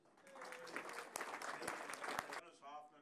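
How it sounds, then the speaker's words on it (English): Diners at a Rotary Club holiday dinner give a member a short round of applause, soft and distant clapping that swells and then fades as a voice begins speaking. "Round of applause for Stewart."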